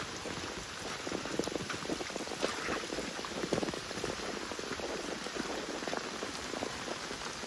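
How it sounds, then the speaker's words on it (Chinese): Heavy rain pours down in hilly country near a stream, a dense, continuous patter of drops striking surfaces close by, with no talk. "雨下的很大"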